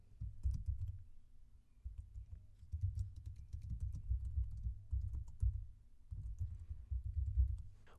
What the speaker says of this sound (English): What I'm going to do is start typing.